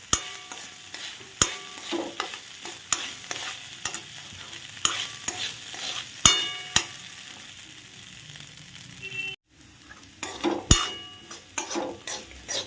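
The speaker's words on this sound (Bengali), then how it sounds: "যখন চালটা ঘিয়ে ভাজবে এরকম করে, তখন কিন্তু গ্যাসের ফ্লেমটাকে বাড়াবে না" Rice frying in ghee over a low flame, with a steady soft sizzle broken by repeated sharp scrapes and clinks of a spoon stirring against the pan, close and moderately loud throughout.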